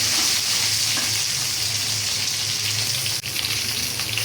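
Taro corms frying in oil with panch phoron, a steady close sizzle and crackle that continues without a break from start to finish, with no voices over it.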